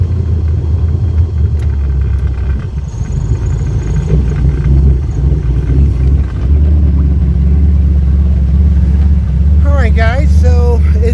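A fast boat's engine running in gear while moving forward, a loud, steady low rumble throughout with a faint high whine near the start, and a voice talking briefly near the end.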